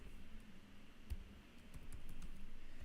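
Steady keyboard typing with quick, irregular clicks, close to the mic, running continuously without any talking.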